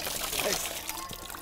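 Freshly pumped clean water pours and trickles in a garden on a summer day, a steady splashing stream with a voice speaking over it.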